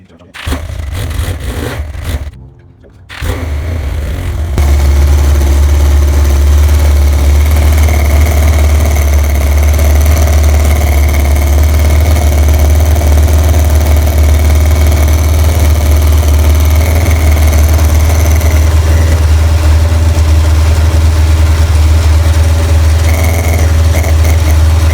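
A Yamaha XJ900S motorcycle engine idles steadily and loudly close by, a low, constant rumble that settles in after a few seconds of brief handling noise.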